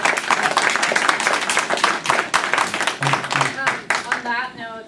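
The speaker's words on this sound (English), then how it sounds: "Good round of applause." A room of people at a university engineering society meeting breaks into a dense round of applause, many hands clapping rapidly before the sound thins out. A voice begins speaking near the end.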